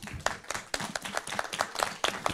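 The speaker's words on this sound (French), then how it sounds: "on a l'équipe avec Morgane et Lucky et Guillaume qu'on peut applaudir." Short burst of live-show audience clapping, a dense rhythmic patter of hands applauding the team, close and moderately loud.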